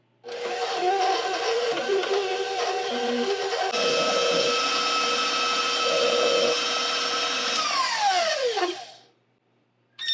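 An electric mixer whirs continuously as it beats butter and powdered sugar for snowball cookies, its motor tone shifting mid-run and winding down to silence at the end.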